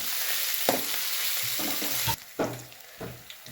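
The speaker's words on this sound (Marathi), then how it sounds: "आलं लसूण आणि कोथिंबीर एकत्र करून चेतले ते टाकायचं बाबा आता हे पण आपण नीट व्यवस्थित भाजून घेऊया" Ginger, garlic and coriander masala roasting in a hot pan, a steady close sizzle broken by several scraping stirs of a spatula, with no talk over it.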